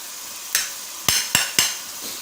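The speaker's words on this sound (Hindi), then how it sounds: "अच्छे तरीके से मिक्स करेंगे।" Salt, garam masala, red chilli and turmeric are stirred into sarson ka saag in a pan, four sharp scraping strokes of the spoon over a soft sizzle.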